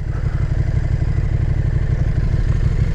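Close, loud idle of a 2020 KTM 1290 Super Duke R motorcycle, a steady throbbing low rumble with a fast mechanical pulse and no talk.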